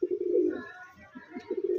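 Large pigeon held for sale by a breeder, giving soft, low cooing calls at close range in two stretches separated by a brief lull.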